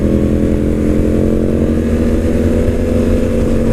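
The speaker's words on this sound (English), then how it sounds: "My buddy Steve is on this bike here, the BMW touring bike." A BMW R1100RT sport-touring motorcycle runs at a steady idle close by, its engine giving a loud, even, low drone that stays constant throughout with no speech.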